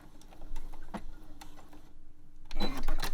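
A domestic sewing machine stitches a seam on fabric for knickers, reversing briefly at the end: a fast, soft ticking mechanical hum at close range, a short pause, then a louder burst of stitching.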